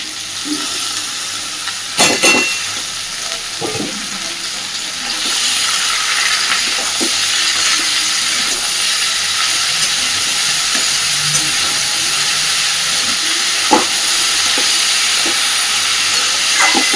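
Snake gourd and potatoes fry in a pan, a loud steady sizzle that swells after a few seconds, with scattered spatula taps and scrapes and no speech.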